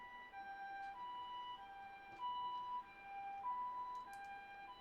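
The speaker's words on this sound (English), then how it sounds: "that's an ambulance" An ambulance siren wails steadily, its tones cycling up and down in a repeating pattern, heard at moderate distance over a low background hum.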